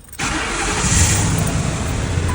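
A Ford Econoline van engine cranks and catches right after a fuel pump replacement, then settles into a steady, loud idle that runs on close by with no talk.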